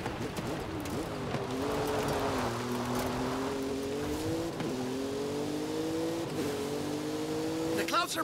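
A car in Forza Horizon 5 drives through a swamp, its engine holding a steady, droning rev with brief dips at each gear change, while people talk over the motor.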